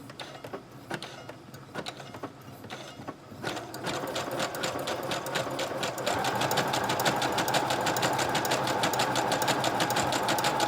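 Up close, a sewing machine works an overcast stitch along a fabric edge, starting with a few separate needle clicks and then settling into a fast, steady rhythmic chatter that grows louder and keeps running.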